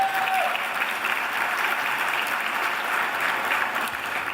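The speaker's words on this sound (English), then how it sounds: "So that deserves another round of applause." A luncheon audience claps in sustained, dense applause that holds steady and loud throughout, with no voices standing out.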